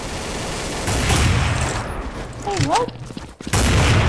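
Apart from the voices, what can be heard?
gunfire from a shooter video game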